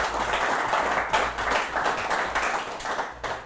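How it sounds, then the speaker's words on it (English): Studio audience applauding guests from the Johannesburg chapter of the Young Presidents Organization, a steady wash of clapping that holds for several seconds and eases toward the end, with no voices over it. "A round of applause to our in-studio guests from the Johannesburg chapter of the Young Presidents Organization"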